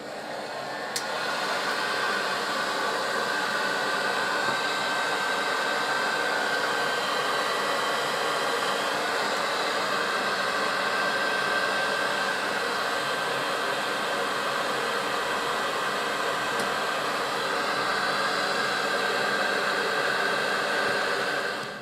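A heat gun fitted with a nozzle blows a steady, loud broadband hiss with a faint whine on top while heating a Morini starter motor to free its bearing, running unbroken throughout with no talking.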